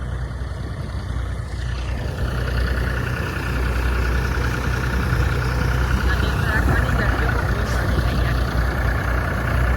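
A tractor engine idles on a farm field, a steady low diesel rumble filling the whole stretch at close range, with a faint voice now and then beneath it.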